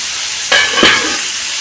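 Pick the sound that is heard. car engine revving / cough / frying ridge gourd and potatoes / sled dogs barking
frying ridge gourd and potatoes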